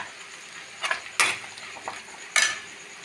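Chopped onion and curry leaves tossed into a pan of hot coconut oil, giving a few sharp clattering stirs and scrapes over a soft, steady frying hiss.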